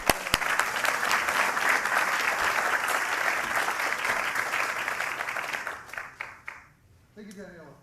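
A conference audience gives a sustained round of loud, dense clapping to welcome a speaker at MIT, which tapers off near the end as a voice begins.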